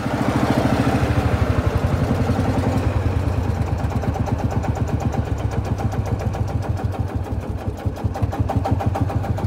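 A 1960 John Deere Lanz D2816 tractor engine runs at half throttle, a steady, fast diesel thump with a pulsing low rhythm. It is loud and close, keeps up for the whole stretch and has no talk over it.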